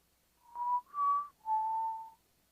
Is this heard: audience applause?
no